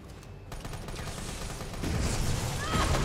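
Continuous rapid gunfire in Resident Evil 3, a dense rattling stream of shots that swells louder toward the end, steady and close with no pauses.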